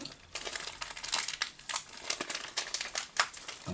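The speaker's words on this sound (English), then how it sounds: "Let's rip into this bag," Plastic blind bag holding a Harry Potter mystery wand being ripped open, a close, continuous crinkling and crackling of packaging with sharp tearing bursts throughout.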